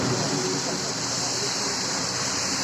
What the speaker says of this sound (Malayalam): മഴ എന്ന് പറഞ്ഞാൽ ഒരു രക്ഷയില്ലാത്ത മഴയാണ് കേട്ടോ